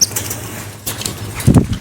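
Pet lovebirds flapping their wings during a bird tricks show, with a soft flutter early on and a louder, closer burst of wingbeats near the end, no talk.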